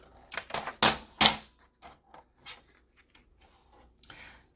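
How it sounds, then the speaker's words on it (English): Scissors cutting a diagonal line in paper to make a corner pocket for a journal: a few sharp, close snips in quick succession, then fainter light rustles and clicks, no talk. "I just need to cut a line in a diagonal"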